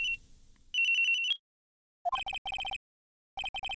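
A cell phone ringtone in the Phoenix Wright Ace Attorney: Trials and Tribulations video game, short bright electronic beeping chirps in quick groups of pulses, loud and clean after a brief burst of game sound.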